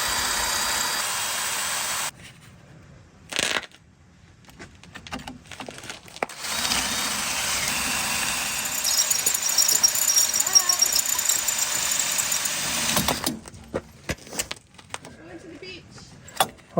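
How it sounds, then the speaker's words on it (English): A power drill bores into a rusted fitting in an 1840s cottage on the Isle of Skye, a loud, steady grinding whine running about eleven seconds with brief stops and restarts, close to the microphone. "now I'm going to try and drill it out"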